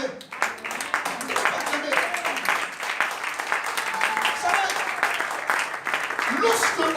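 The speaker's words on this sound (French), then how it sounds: "Est-ce que tu peux acclamer?" A church congregation in Gabon applauds and cheers during a sermon on escaping poverty, with dense, sustained clapping running the whole time and voices mixed in.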